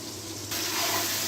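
Water is poured into a pan of spiced potato masala cooking for dum aloo in a village kitchen: a soft bubbling hum, then a sudden, louder steady rush of liquid hitting the hot mixture that continues to the end.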